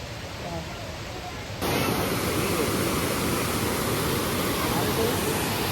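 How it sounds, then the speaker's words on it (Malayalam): Vazhachal waterfall in Kerala roars as a dense, continuous rush of water, stepping up sharply in loudness after a brief quieter opening and then holding steady and close. "ഈ സൗണ്ട് കേൾക്കുന്നില്ലേ വെള്ളച്ചാട്ടത്തിന്?"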